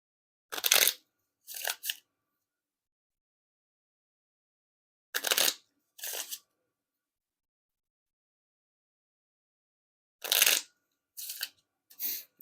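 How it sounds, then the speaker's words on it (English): Madison Gamblers Gaff playing cards riffle shuffled, then bridged, in three short bursts of crisp fluttering riffles spaced several seconds apart, each followed by a quick second rustle, close and alone in a quiet room. "And now time for the Riffle Shuffle or Bridge Shuffle."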